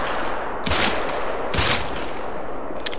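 Two loud gunshots ring out in the hunting game theHunter: Call of the Wild, from a 10mm weapon during a turkey hunt, sharp cracks over a dense steady background, with a faint third report at the end.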